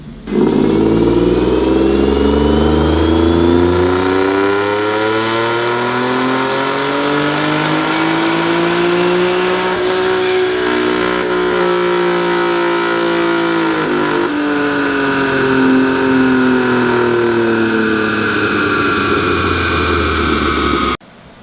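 A tuned customer car, making around 400 horsepower, revs hard on a dyno through one long, loud pull. The engine note climbs steadily for about twenty seconds, then drops off sharply at the end, with no talking.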